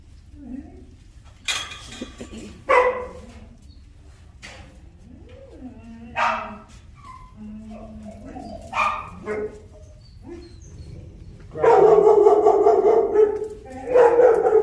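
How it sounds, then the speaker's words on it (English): Dogs bark, growl and whimper in short, scattered outbursts during a tense introduction between dogs, with people talking and the clatter of dishes and cutlery around them, ending in a louder run of barking. "I wouldn't be surprised if Skylar starts barking at her"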